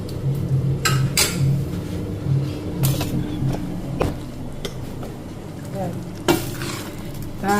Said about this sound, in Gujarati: આપણા મઠનું શાક વઘારાઈ ગયું